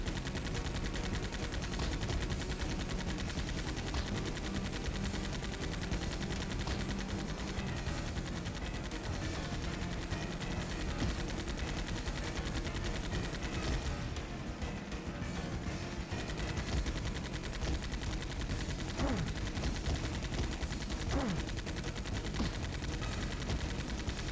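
Dense, continuous automatic gunfire from enemies shooting at each other in the video game XIII, with rapid bursts overlapping steadily and loudly for the whole stretch and no talk.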